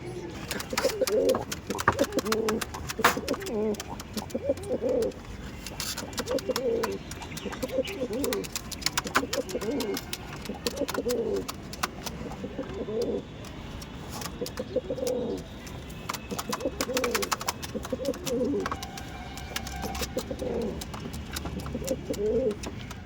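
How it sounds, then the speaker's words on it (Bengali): Pigeons cooing in a repeated, rhythmic pattern nearby in a pigeon loft, including a female pigeon, with rustling, clicks and occasional other bird chirps around them. "এটা হচ্ছে ফিমেল পায়রা"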